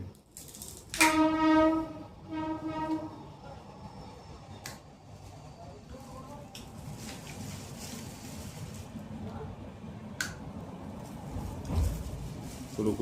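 A train gives two short horn blasts near a house in stormy weather. The horn is sharp but brief, and it gives way to a low, rushing rumble of passing rail traffic and wind.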